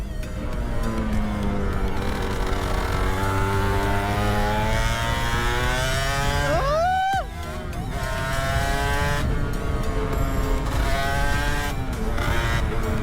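An Aprilia RS 125 two-stroke motorcycle engine revs hard and climbs through the gears, buzzing loudly up close, with a brief dip before accelerating again.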